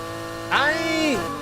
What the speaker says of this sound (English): I'm really curious to see how I feel about the engine sound